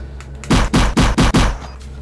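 Five loud, closely spaced gunshots fire in quick succession in the VR shooter game Fovos, each a heavy booming blast with a short decay.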